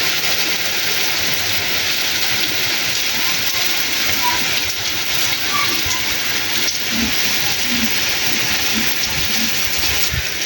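Heavy rain pours down steadily on a mud house in a Punjab village, a dense, constant hiss with occasional louder patters and splashes close by.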